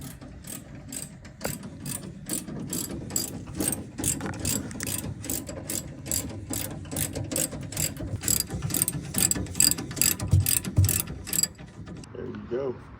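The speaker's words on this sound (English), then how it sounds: "to remove these shocks, all you gotta do is take these bolts, these bottom ones off" A ratchet wrench removing the bottom shock bolts on a 2015 GMC Sierra 2500 pickup, rapid continuous clicking strokes repeated steadily for several seconds, close and fairly loud, stopping near the end.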